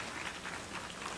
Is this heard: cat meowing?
no